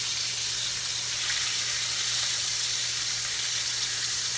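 Tomahawk pork chops sizzle loudly and steadily in a hot pan while being seared, a continuous close frying hiss with no voices.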